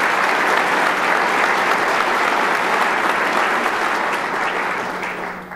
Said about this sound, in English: Can I have a round of applause for them for making this possible?